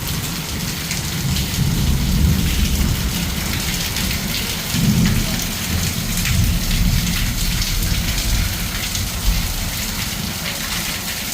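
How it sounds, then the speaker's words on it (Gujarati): Heavy rain pours steadily throughout, a dense, constant roar of drops with low rumbling swells, loud and close, with no voices. "હવે વરસાદ આવે છે"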